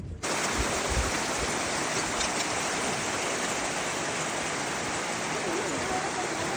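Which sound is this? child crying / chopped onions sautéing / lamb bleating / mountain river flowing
mountain river flowing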